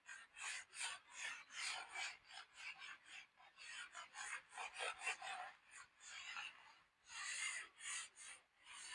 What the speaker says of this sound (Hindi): अब इसको रब कर रहा हूं।